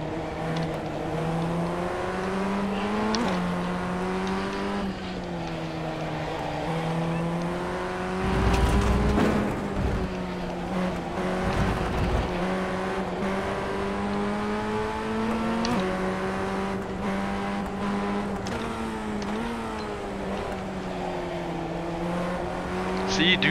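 Ray FF1600 race car engine lapping Okayama circuit, a steady buzzing drone that climbs and drops with upshifts and braking, close and continuous, with a driver occasionally talking over it.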